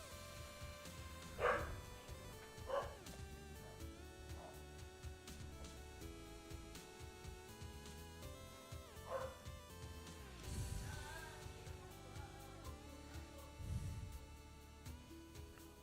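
A dog barks in a few separate, excited yips and woofs, somewhat distant and moderately loud, spread across a steady background hum.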